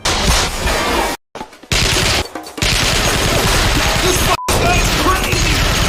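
Dense automatic gunfire in a movie scene, with rounds striking a refrigerator: loud, continuous rattling bursts broken by two brief silences and one short gap, close and overwhelming.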